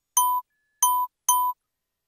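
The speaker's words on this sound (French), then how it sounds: "la seule chose dont vous aurez besoin, c'est un son de clochette comme celui-ci" A small bell sample struck three times, each a clean, bright ding with a short ring-out, separated by silence.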